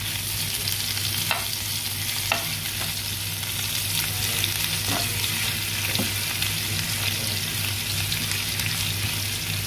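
Ginger frying and being stirred in a pan for a squid curry masala: constant loud sizzling with occasional scraping stir strokes, no voices.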